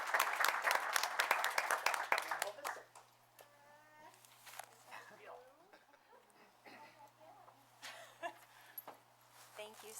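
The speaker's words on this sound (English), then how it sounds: "Please give a round of applause to April." A town board meeting audience gives a short round of applause that fades out after about three seconds, followed by quieter room sounds and speech.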